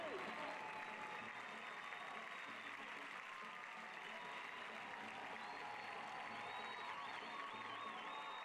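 A stadium crowd at outdoor high school nationals applauds a national record mile run, a sustained distant wash of clapping and cheering under a public-address voice.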